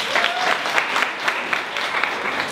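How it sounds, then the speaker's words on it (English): Applause from an audience at a digital skills workshop for women in STEM in Malawi, a steady wash of many hands clapping at close range, with a few sharper claps standing out. "So let's give her a round of applause."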